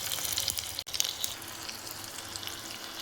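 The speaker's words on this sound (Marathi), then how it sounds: "तडका द्यायचा आहे. मिरची टाकायची, मोहरी टाकायची," Green chilies and mustard seeds spluttering in hot oil as a tempering for rava dhokla, a continuous close sizzle with scattered pops and one brief dropout, no talking.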